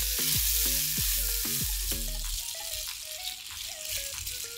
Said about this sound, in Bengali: রসুনগুলো যখন লালচে হতে শুরু করবে সেই মুহূর্তে সেদ্ধ করে রাখা পাস্তাগুলো দিয়ে দিলাম।